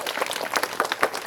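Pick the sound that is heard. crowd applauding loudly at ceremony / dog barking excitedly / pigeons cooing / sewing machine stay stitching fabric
crowd applauding loudly at ceremony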